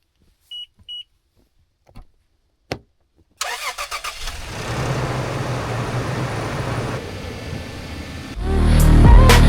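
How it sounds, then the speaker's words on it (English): A car is started on a snowy morning during blizzard car camping: a few short beeps and clunks, then the engine cranks and catches at close range and settles into a steady idle rumble that swells louder at the end. "Time to start the car."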